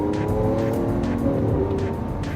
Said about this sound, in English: The engine is ferocious sounding.